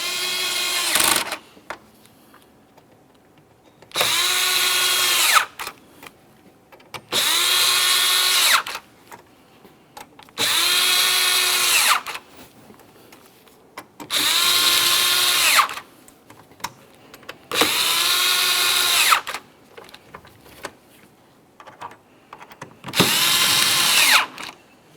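A power drill snugs up the upper mounting hardware for a fog light on a 2017-2024 GMC Acadia, running in seven evenly spaced high whirring bursts of about two seconds each, close and loud, with light clicks between.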